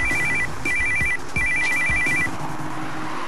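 A telephone rings in clear repeated electronic bursts, three trilling rings close up and loud, with no voices over them.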